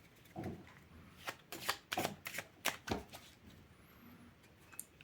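Tarot cards shuffled by hand in a series of quick riffling bursts, close and soft in a quiet room with no talking.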